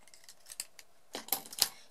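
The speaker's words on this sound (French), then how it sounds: "on va pouvoir couper notre fil métallisé" Scissors cut metallic thread in a quiet paper-craft setting, giving several light snips and clicks, faint at first and then a sharper, louder cluster of snips near the end.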